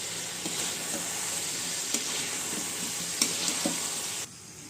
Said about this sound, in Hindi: अब ये चिकन फ्राई करा हुआ ये डाल दीजिए। डाल के इसको अच्छी तरह से भून लीजिए।